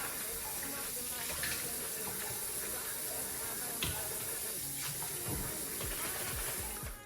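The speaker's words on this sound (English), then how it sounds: "I'm gonna go ahead and wash all the bottles" Tap water runs steadily into a sink while baby bottles are washed, a continuous close splashing hiss with small clinks and knocks throughout.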